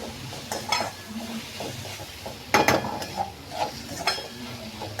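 Cluster beans (gawar) are stirred as they fry in a pan, with a soft sizzle under repeated scrapes and clinks of a spatula against the metal, a few of them louder. There is no talking.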